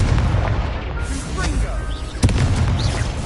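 Booming blast from the Confringo spell in Hogwarts Legacy, a heavy explosive burst amid dense rumbling combat noise, with a sharp impact near the end and a voice shouting over the fray.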